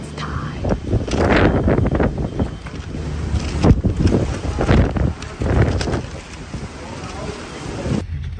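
Strong gusts of wind buffet the microphone on a Chicago street, a rough, rumbling roar that surges and eases for several seconds, with people talking faintly in the background.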